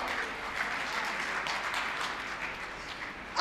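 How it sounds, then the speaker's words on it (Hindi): Listeners at a Hindi poetry gathering clap together, a soft, even patter of applause that lasts a few seconds before a sharp burst at the close. "ताली बजाई थी, ताली बजाते रहो।"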